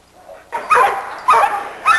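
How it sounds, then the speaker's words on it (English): A small old female dog in a yard lets out a few short, close barks mixed with whimpers, in three bursts after a quiet start, with no talking. "this little old dog right here is a dog that we've had for quite some time"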